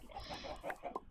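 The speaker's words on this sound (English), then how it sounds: "I have a chicken farm that's not producing very much" Chickens cluck softly on a Minecraft chicken farm, a few low, scattered clucks in a short quiet stretch with faint background noise.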